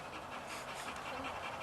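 A dog pants steadily and close by, quick rapid breaths repeating throughout, heard during a rope swing and river rafting outing in Japan in 1991.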